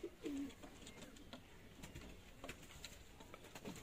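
Dab-breed pigeons coo in a soft, low burst near the start, then the calling quiets into faint shuffling and background noise.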